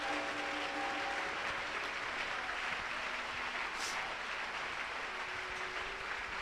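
A church congregation applauds during worship, producing a dense, steady wash of clapping that holds evenly throughout at a fairly soft, distant level.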